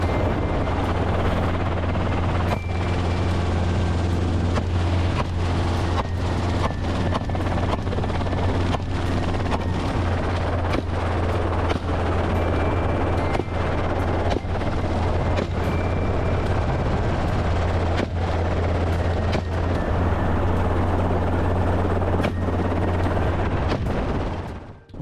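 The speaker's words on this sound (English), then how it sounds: "these helicopters are armed with cutting-edge weaponry" A hunting helicopter flies in the open, its loud steady rotor and engine drone holding constant throughout with sharp, rhythmic blade slaps layered on top, close and continuous for the whole stretch.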